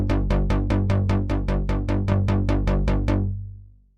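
Synth bass run through a glue compressor modelled on an SSL bus compressor, heavy threshold and makeup gain with soft clip, playing a steady stream of about fifteen evenly spaced punchy plucked notes, loud and alone before ringing out.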